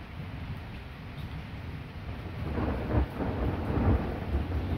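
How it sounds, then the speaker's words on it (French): Thunder rumbles low and heavy during a violent summer thunderstorm, swelling into deeper booms amid steady rain and a windy hiss. "je m'attendais pas à avoir un orage comme ça moi."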